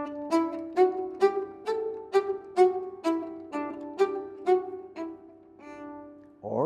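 Nyckelharpa, a traditional Swedish bowed keyed fiddle, played staccato: a string of short, detached bowed notes, about a dozen in an even rhythm with clear gaps between them, close and solo, closing on one longer held tone.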